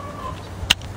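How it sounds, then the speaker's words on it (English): A single short, sharp cluck from a chicken nearby in a backyard, over a quiet background hum. "I don't know if you can hear the chickens"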